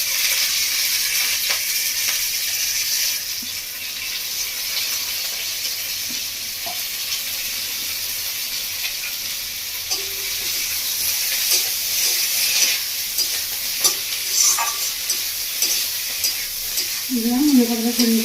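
Fish roe fritters (macher dimer bora) sizzle in a pan with a constant loud hiss while being gently stirred after chopped coriander is scattered over them. Occasional clinks and scrapes break through near the end.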